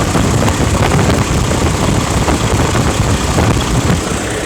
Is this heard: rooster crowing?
no